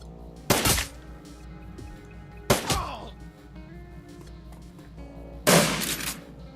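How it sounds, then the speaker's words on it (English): Three loud shotgun blasts from the video game Shadowrun: Dragonfall, each a sharp broadband crack with a short decaying tail, spaced a couple of seconds apart over a low steady game-music drone. "Nice shotgun, though."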